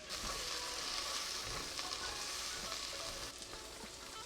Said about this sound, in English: The onions need to cook between 3 to 4 minutes.